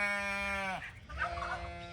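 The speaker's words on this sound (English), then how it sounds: "Turkeys are loud." Turkeys on a farm: one long, loud, tonal call holds steady and then breaks off, followed by rougher, rasping calls from nearby birds.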